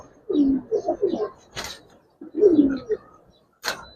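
Soft, low cooing from Giribaz and coloured fancy pigeons in two short bursts, with a couple of sharp clicks or rustles in between; close and fairly quiet.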